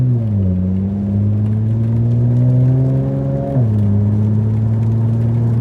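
An Infiniti Q50S loses traction as its wheels spin, the engine holding a steady loud rising whine before dropping sharply in pitch, then carrying on at a high drone.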